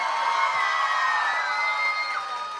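An audience at an Urdu mushaira poetry gathering in Mumbai University cheers and shouts loudly and steadily in a dense crowd roar that runs continuously from start to finish.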